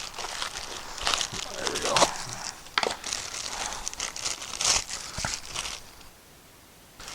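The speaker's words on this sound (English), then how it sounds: "I can get the plastic off of this." Plastic wrapping is pulled and crinkled off a Ryobi grinding wheel at close range in continuous rustles and crackles. Someone speaks briefly partway through.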